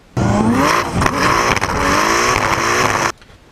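A Nissan S14 drift car revs hard during a team battle, its engine note loud and close for about three seconds, climbing and dropping with throttle before cutting off abruptly.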